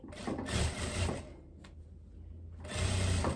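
A sewing machine stitches a seam on a striped linen dress, with two faint bursts of rapid mechanical whirring separated by a quiet pause, close and soft.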